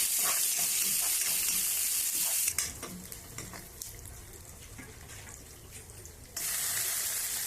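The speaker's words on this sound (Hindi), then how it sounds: "अब इसमें कटी हुई प्याज डालेंगे।" Chopped onion goes into a hot frying pan for a Chhattisgarhi masoor tahri, a loud steady sizzle that eases to a softer hiss midway and then surges back loud near the end.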